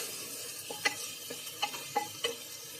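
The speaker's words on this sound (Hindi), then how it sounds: "टमाटर और हरी मिर्च सॉफ्ट थे जो, अब इसके साथ भुनेंगे जब तक ऑयल सेपरेट नहीं हो जाता" Mutton fries in oil with soft tomatoes and green chillies, a low, steady sizzle broken by several sharp stirring clicks of a spoon against the pan.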